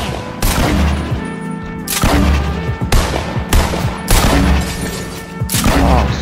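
Loud bursts of gunfire in the Fortnite video game, several rapid volleys with short gaps between them, close and dominating, with no talking.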